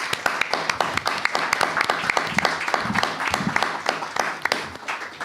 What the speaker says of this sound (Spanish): un gran aplauso a Teatro Ictus y a La Maquinita